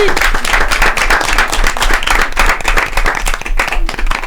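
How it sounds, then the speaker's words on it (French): Loud, dense applause from an audience thanking a guest, many hands clapping rapidly and continuously at close range with no pause. "je voudrais vraiment que tous on le remercie fort avec des gros applaudissements"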